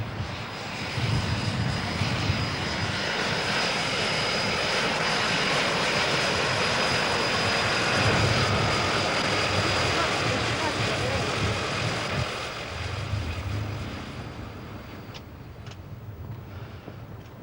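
A small mail plane with a propeller engine lands, its steady engine drone loud and continuous, easing off toward the end.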